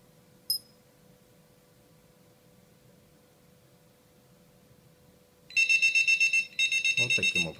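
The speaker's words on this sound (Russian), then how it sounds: "при появлении первых капель мочи будильник должен незамедлительно сработать" An Enuflex bedwetting alarm going off: after a brief click, two bursts of rapid, loud electronic beeping start near the end, with a voice speaking briefly at the close.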